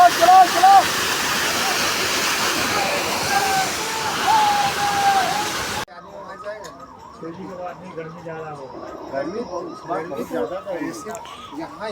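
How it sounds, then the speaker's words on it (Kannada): A forceful waterfall pours from a great height on the route of the Amarnath Yatra, a loud steady rush filling the first half before giving way to quieter sound with a voice over it. "ನೋಡಿ ಎಷ್ಟು ಮೇಲಿಂದ ನೀರು ರಭಸವಾಗಿ ಬೀಳ್ತಾ ಇದೆ"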